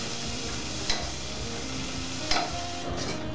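Beef sears in a hot pan for bourguignon, a steady close sizzle with a couple of sharp clinks of a utensil against the pan.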